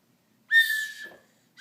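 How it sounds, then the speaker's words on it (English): A small Mickey Mouse toy whistle gives a single shrill blast, steady and bright, close and fairly loud, fading out after about half a second. "That's your new Mickey Mouse whistle from Nora Furstel."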